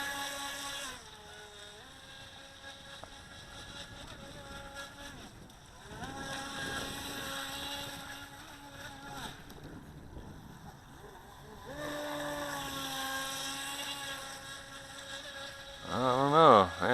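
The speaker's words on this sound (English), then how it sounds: "I hear the motor revving down a little bit" High-speed Feilun FT009 RC boat motor on water, a faint distant whining drone that rises and falls, winding down in pitch at times, with occasional louder moments near the end and some talk in between.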